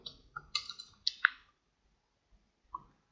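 Mouse clicks while filling in an online CET entrance application form: a quick run of crisp clicks near the start, then two isolated clicks after a pause, close and alone with no talk.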